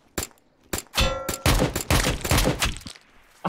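Bursts of gunfire in the Project Delta video game, sharp loud shots fired in quick clusters separated by short pauses, with a final shot at the end.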